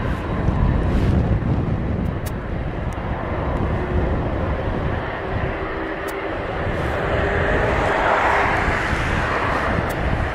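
A Boeing 767 airliner at East Midlands Airport roars steadily at a distance, a broad engine rumble with wind buffeting the microphone, swelling slightly toward the end with no voices over it.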